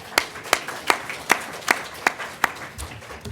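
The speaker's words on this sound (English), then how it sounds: "let's give them a round of applause for participating" Audience applause for panelists at a US-Taiwan relations symposium, a sparse crowd clapping with distinct, evenly spaced claps standing out over light room noise.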